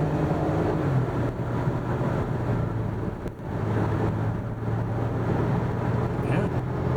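A 2012 Dodge Grand Caravan cruises along a road, its cabin filled with a steady, even low rumble of engine and tyre noise from start to finish, with only a brief dip around the middle.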